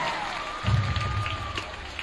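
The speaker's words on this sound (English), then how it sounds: "Give my friends a big round of applause for standing by me the whole time." An audience claps at a school club day assembly, a dense, steady patter of many hands that lasts the whole moment, heard from some distance in a large room, with a low rumble swelling partway through and a faint thin tone above.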